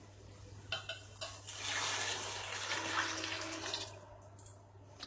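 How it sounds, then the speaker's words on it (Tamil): Water pours into a pot for cooking rice, a splashing gush building after a few metallic clinks and lasting a few seconds before tapering off, close and fairly quiet against a low steady hum. "இப்போ இந்த தண்ணி எடுத்து நம்ம அளந்து இதில் ஊற்றிடலாம்"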